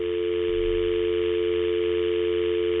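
A steady telephone dial tone hums continuously and evenly, loud and close, with no voices or breaks.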